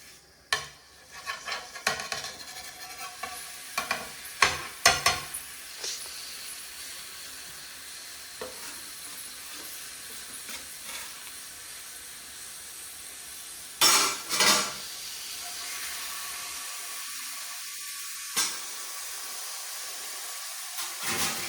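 Burger meat sizzles and sautés in a pan amid stirring scrapes and clinks of utensils against the pan, with a few louder bursts of activity before the sizzle settles into a quieter, steady hiss.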